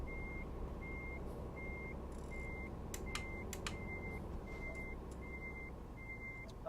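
Reversing beeps from a truck in the Euro Truck Simulator 2 video game, a steady series of evenly spaced tones over a low engine hum, with a few faint clicks between them.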